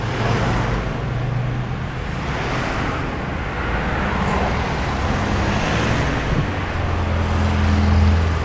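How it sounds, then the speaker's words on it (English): Road traffic beside a busy road in an Italian city, a loud, continuous roar of passing cars and heavier vehicles with engine drones rising and fading, one deeper vehicle swelling near the end. "This is a recording made near a traffic road in an Italian city."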